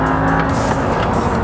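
An Audi R8 with its V10 engine mounted behind the driver roars continuously and loudly around a racetrack, the engine note steady and close throughout with a faint hint of tire noise.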